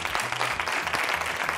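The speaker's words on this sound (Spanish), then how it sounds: "Aplauso para Pepe Benavente." Audience applause on a Spanish television game show, a brief, steady burst of dense clapping heard alone.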